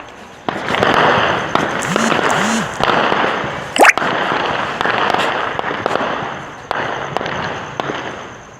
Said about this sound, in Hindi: सेना की तरफ से फायर किया जा रहा है और ड्रोन्स को बाहर गिराया जा रहा है